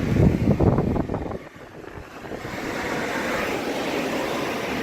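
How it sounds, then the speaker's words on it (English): An old shop blower refitted with an ECM motor pushes a steady rush of air, a continuous broadband whoosh close by that starts with some buffeting and then settles into an even roar. "It blows a pretty good amount of air."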